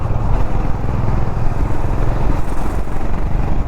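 A BMW G310 GS motorcycle cruising in fifth gear at about 70 km/h on a busy road, its engine droning steadily and loudly with constant rumble and wind, no talk.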